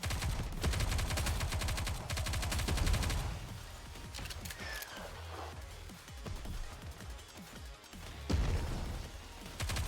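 Rapid automatic gunfire from the Nikke shooter game fills the scene, loud and close, in long rattling bursts that break into scattered shots and impacts midway before another heavy volley surges near the end.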